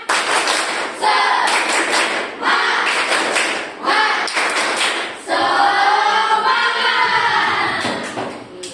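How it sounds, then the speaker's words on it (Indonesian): A school class in an elementary classroom performs a rhythmic clapping chant, sharp claps in repeated bursts with voices joining in, close and loud. "Kita ice breaking tepuk semangat."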